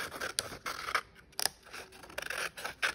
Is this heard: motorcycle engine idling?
no